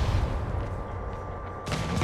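In Marvel's Spider-Man, heavy booming rocket blasts rumble low and steady, then a sharper, brighter explosion bursts in near the end.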